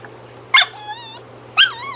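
A dog in a kennel, an American Bully, gives two short high whimpering yips about a second apart, close and fairly loud over a low steady hum.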